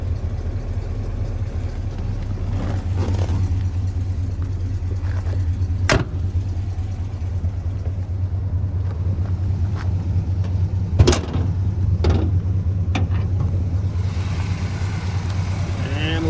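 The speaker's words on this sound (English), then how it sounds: "Listen to this motor, it just runs like a top." A 1967 Pontiac GTO with a 400ci V8 idles smoothly and quietly, a steady low engine hum throughout, with a few brief clicks and knocks nearby.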